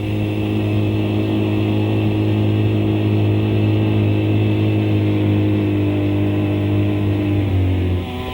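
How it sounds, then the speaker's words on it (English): Two BMW police-trim motorcycles, a standard R90S and an R75, run with a steady, loud engine drone and strong low harmonics, holding an even pitch before easing off near the end. "This is a standard BMW 90S and a BMW 75 in police trim."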